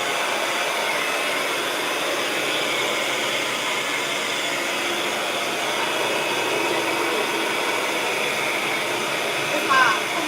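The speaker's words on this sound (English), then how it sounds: "Have my blow dryer on high heat." A blow dryer runs on high heat, a steady loud broadband whoosh that holds level for the whole stretch, with only a faint brief bump near the end.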